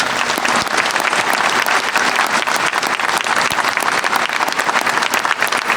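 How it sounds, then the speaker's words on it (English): Loud, sustained applause from a large audience honours Methodist University graduates at a winter commencement ceremony, dense clapping filling the hall without pause for several seconds. "I ask everyone to join me in applauding this remarkable group of"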